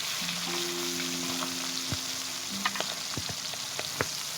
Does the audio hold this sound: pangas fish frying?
yes